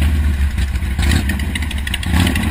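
A motorcycle engine hums low and steady at night while the rider moves slowly, with a constant close rumble and light mechanical clatter throughout and no talking.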